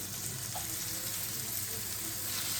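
Chicken sizzles and crackles steadily in hot oil, a dense hissing fry close by with no talking.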